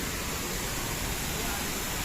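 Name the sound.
waterfall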